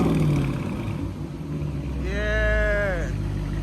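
A Dodge Challenger with a muffler delete revving up, a low rumbling engine that swells and builds toward the end while a rising whining tone cuts across midway, with close-up noise throughout.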